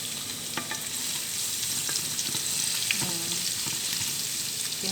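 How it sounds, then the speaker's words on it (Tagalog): Garlic frying in olive oil in a clay pot, a continuous bright sizzle with occasional stirring scrapes and small pops, close and steady with no talking. "Nag-fry ako ng garlic."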